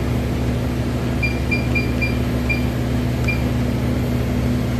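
A 400 kW back pressure steam turbine runs with its RPM rising, a loud, steady industrial hum and whine that fills the space, with a few faint high beeps over the drone.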